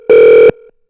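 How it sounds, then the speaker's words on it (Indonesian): A single loud electronic telephone tone, steady and about half a second long, sounds alone with a faint tail after it during a live radio broadcast. "Wah, bunyi telepon."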